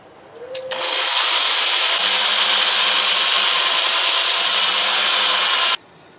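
Loud, steady high-pitched whir of a lathe with abrasive sandpaper rubbing against a spinning maple burl, starting abruptly and cutting off after about five seconds.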